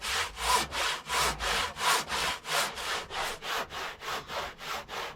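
A handsaw cuts lengthwise along the grain of a piece of wood in steady back-and-forth strokes, about a dozen rasping pulls heard up close with no talking.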